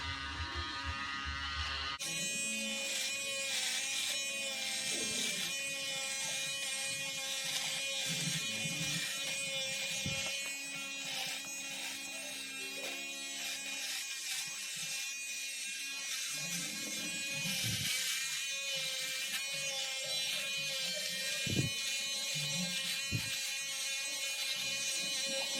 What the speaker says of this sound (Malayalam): എപ്പോൾ ഷേവ് ചെയ്യുമ്പം താഴേന്ന് മുകളിലോട്ട്